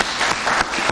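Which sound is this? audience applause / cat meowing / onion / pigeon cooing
audience applause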